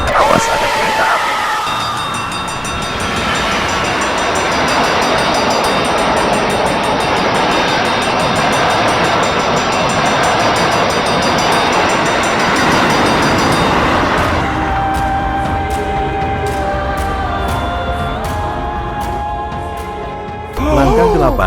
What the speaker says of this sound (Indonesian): Awas, ada kereta api.